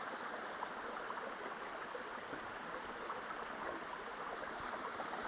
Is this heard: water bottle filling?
yes